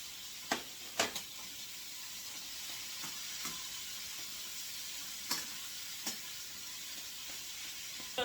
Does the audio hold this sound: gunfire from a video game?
no